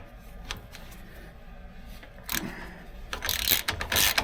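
Metallic clicks and rattles come from a ratchet and tools working bolts loose on a 2014 truck's control arm bracket, scattered ticks followed by louder bursts of clattering near the end, with no speech.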